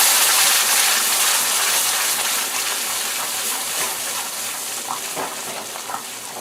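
Milk pours into a cooking pot in a steady, hissing gush that slowly softens over several seconds, close and fairly loud, with no one talking.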